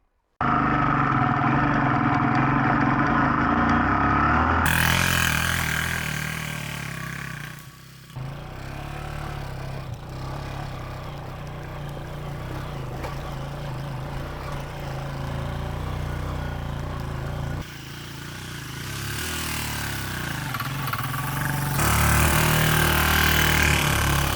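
A Hartford Mini 125 motorbike labours up a long, steep, rutted dirt hill, its small engine droning and revving close by, dipping briefly and then climbing again over a sustained run.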